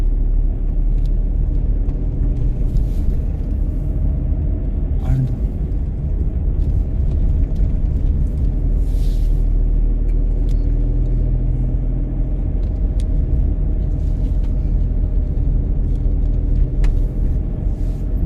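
A car is driven along a single road in Solan during a driving lesson, its steady low engine and tyre rumble continuous and close throughout, with a few faint clicks and knocks.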